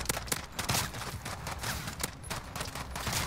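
Rapid bursts of gunfire from a Modern Warfare Survival match on Xbox crackle throughout, with sharp repeated shots and a dense fusillade over steady background noise.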